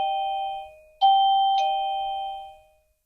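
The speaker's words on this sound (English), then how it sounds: "the doorbell receiver will flash and play the selected melody that you chose" A wireless doorbell receiver's two-tone electronic chime rings out, then a second chime starts mid-note, bright, clear and close, each tone fading slowly into silence.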